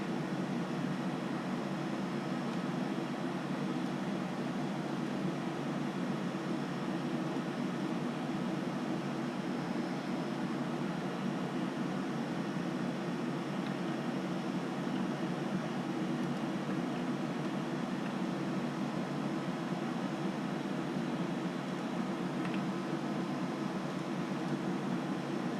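A helicopter flying in the Second Life aviation game, controlled with an external joystick and pedals, gives a steady, continuous mechanical rotor and engine drone that holds unchanged throughout, with no talking.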